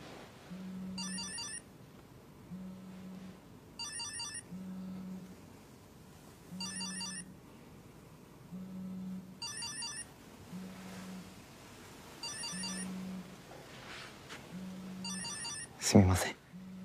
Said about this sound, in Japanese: 電話出てください。